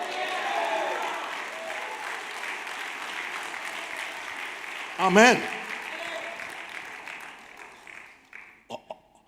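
A church congregation breaks into a short burst of applause during a Spanish-language sermon, loud but brief, with a preacher's voice and a few scattered claps around it.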